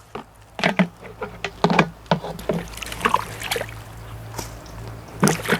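Freshly picked whole plants of the forest herb doh mai ru lom, gathered in the rainy season, are swished and rinsed in water, producing close, irregular splashes, sloshes and light knocks.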